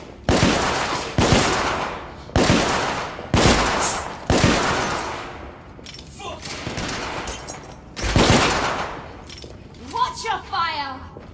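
Heavy gunfire from a firefight in the video game The Order 1886, with loud repeated bursts roughly every second, then scattered shots and clinks, while voices call out under the shooting.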